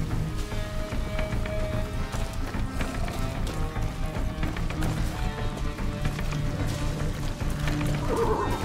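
A horse whinnies during a ride in Far Cry 6, the neigh set within a dense, loud mix of game music, galloping motion and ambient effects with no speech.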